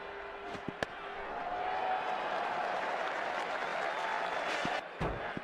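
A cricket crowd at an India vs Australia Test match applauds a batsman's half-century, steady broad clapping swelling and sustained for several seconds, with a few sharp knocks and thuds near the start and end.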